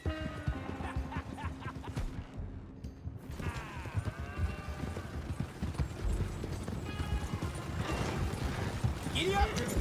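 Horse hooves clip-clop steadily along with creaking tack and wagon mechanisms in Red Dead Redemption 2, a continuous rhythmic patter under ambient game noise and a brief shout.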